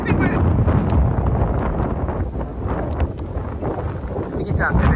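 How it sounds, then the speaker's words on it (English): Strong wind buffets the microphone in a garden, a continuous loud roar with gusty swells and no breaks. "This wind is so strong."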